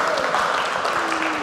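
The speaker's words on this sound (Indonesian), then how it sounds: "Oke, nah kita mungkin tepuk tangan dulu ya." Audience applause at a talk event in Jakarta, a brief, even patter of clapping with a voice sounding faintly beneath it.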